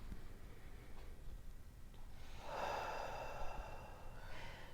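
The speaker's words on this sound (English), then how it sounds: "Go ahead and take that breath deep in" A slow, deep inhalation taken during a guided breathing exercise for emotional healing, rising to a soft, airy rush in the middle of the breath and then easing off, close and quiet with no talking.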